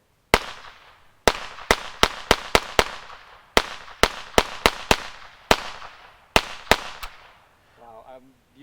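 Around fourteen sharp .22 rounds fired from a Ruger Charger pistol, loud close cracks in an irregular quick string with short gaps, then a brief voice at the end.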